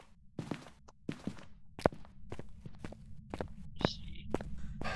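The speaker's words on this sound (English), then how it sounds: "I think they changed the footstep noises because my feet sound different" Footsteps in the game Phasmophobia, a series of irregular thuds and scuffs at close range, with soft voices murmuring and breathing in between.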